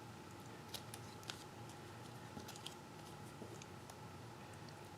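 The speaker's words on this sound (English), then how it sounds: "I'm just trying to carefully cut off that extra adhesive that I missed." Small scissors trim excess adhesive at a craft table, giving faint, soft snips and light ticks scattered irregularly over a quiet, steady room hiss.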